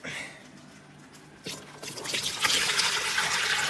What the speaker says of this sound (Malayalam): ക്ലോസ് ചെയ്തിട്ട് അതിലേക്ക് വെള്ളം വയ്ക്കാം